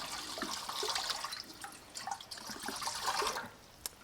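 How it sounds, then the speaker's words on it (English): A bowl being washed in a small basin of water off grid, steady close sloshing and splashing with drips throughout, with no one talking. "I'm going to wash this off grid in my little basin right here that I have"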